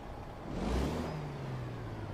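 A Kenworth truck engine revs in a truck simulator video game, a faint broadband engine roar that swells briefly and then settles into a steady drone.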